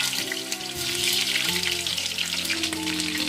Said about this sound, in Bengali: এখন সেই তেলের পাত্রেই আলুগুলো ভেজে নিব।